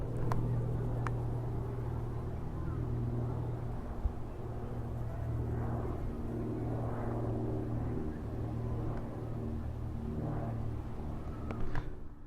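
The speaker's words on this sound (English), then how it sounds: "there's a biplane flying" A biplane with propeller engines flies overhead in a park, its engine drone a low, steady rumble heard from a distance throughout, fairly faint with a few light knocks and rustles near the microphone.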